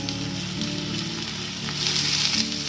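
Fried pointed gourd pieces hit hot spiced oil in a pan, setting off a loud, steady sizzle and crackle that swells briefly near the end, with no one talking.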